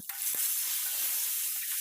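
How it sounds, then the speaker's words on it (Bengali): Steady loud sizzling from a hot pan frying green beans, with a few soft scraping stirs underneath. "দেখো কত সুন্দর করে লাল লাল করে ভাজছি শিমগুলো"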